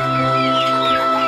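Caged chickens cluck steadily and close by, with overlapping hen calls and a faint rooster-like note throughout, no talking.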